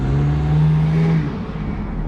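A car fitted with Brembo brakes, driven by an elderly man, goes by with a loud, steady low engine hum and whir that eases off slightly toward the end.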